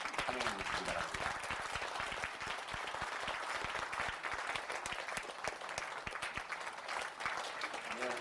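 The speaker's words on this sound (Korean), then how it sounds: "여러분 큰 박수로 환영해 주시기 바랍니다." Audience applause at a Korean disability human rights award ceremony as a donation is handed over, a dense, sustained clapping crowd with some sharper individual claps standing out, heard from a moderate distance.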